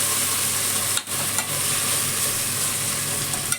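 Onion, tomato and biryani masala sauté in oil for a vegetable biryani, a steady close broadband sizzle with a brief stir scrape near the start and light clinks of a spoon against the pan.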